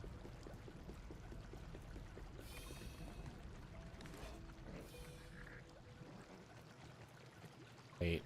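Water runs steadily in the video game Grounded 2, a continuous faint pouring wash with light splashes and a few brief tonal blips, ending in a short louder knock.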